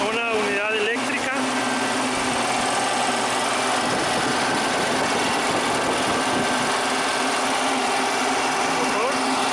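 An electric-motor-driven high-pressure air compressor, a Stewart Warner 3.5 CFM or Bauer K-14.7 unit at about 1000 psi, runs loudly and steadily for the whole stretch with a constant mechanical whine.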